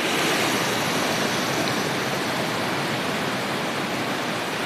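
Surf rolls onto a beach at Ilha Comprida, a loud, steady broadband wash of waves with no pauses and no voices.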